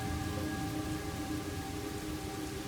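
Rain in the video game Master Detective Archives: Rain Code, a heavy continuous downpour hissing evenly throughout with a low rumbling undertone, no voices over it.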